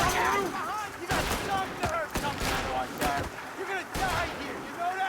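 Gunshots crack in bursts during a Mafia Definitive Edition shootout, several sharp reports spread across a few seconds beneath excited, continuous talk.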